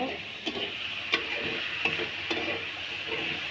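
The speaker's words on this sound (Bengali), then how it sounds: "এখন হলো নাড়ার পালা খালি নাড়তে হবে" Curry being stirred in a frying pan gives a steady sizzle, broken by several light scraping taps of the spoon against the pan, close and without talking.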